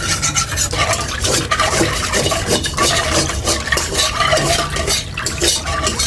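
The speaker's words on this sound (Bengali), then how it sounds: "আমি ভালোভাবে মিশাই নিচ্ছি এইভাবে।" Lachha semai ingredients and sugar are stirred in a pot, a continuous scraping and clinking of the spoon against the metal with a soft wet churn, steady and close, with no one speaking.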